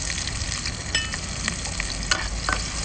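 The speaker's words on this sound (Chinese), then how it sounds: "起锅烧油了啊" Oil heating in a wok and sizzling steadily, a close crackling hiss with scattered sharper pops and light stirring sounds, no voices.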